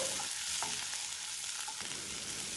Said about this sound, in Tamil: வெங்காயம் வதங்கி வரட்டும்